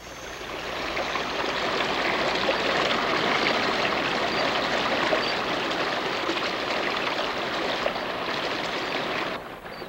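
A rain forest stream flows with a steady, broadband rushing and gurgling, even and continuous at moderate loudness for nearly ten seconds, with no voices over it.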